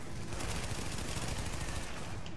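Shotgun blasts from a firefight in the video game The Division, loud and dense, filling the short stretch as near, continuous gunfire with no talk over it.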